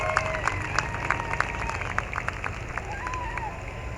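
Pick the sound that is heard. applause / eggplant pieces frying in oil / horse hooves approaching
applause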